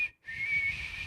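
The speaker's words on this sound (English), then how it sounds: "Can you whistle now with the?" A person whistles a steady high tone close by, broken by a brief pause near the start before resuming and holding evenly to the end.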